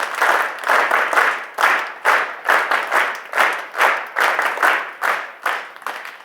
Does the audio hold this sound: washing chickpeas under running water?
no